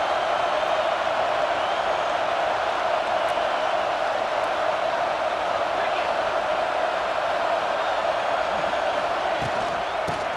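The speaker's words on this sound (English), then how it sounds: "quiet this crazy, raucous crowd" A dense, steady roar of a large stadium crowd fills a college football video game, loud and unbroken throughout with no distinct cheers or claps standing out.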